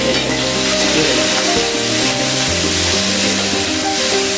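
Curry leaves hit hot oil in a tadka tempering, giving a loud, continuous sizzle and spatter that fills the whole moment, close and intense with no talk.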